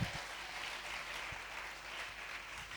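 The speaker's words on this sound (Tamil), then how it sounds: "நல்ல கைத்தட்டி ஆமென் சொல்லுங்க." A church congregation clapping during a Tamil sermon, a faint, soft patter of hands spread evenly over a few seconds, sounding somewhat distant.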